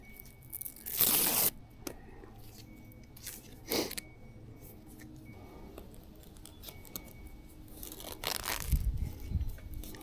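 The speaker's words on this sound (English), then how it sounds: "we'll use these little Velcro straps to tighten up this wire here" Velcro straps are ripped apart and pressed on to secure a rear camera wire on an e-bike, giving a few short, close tearing bursts between quieter handling noises.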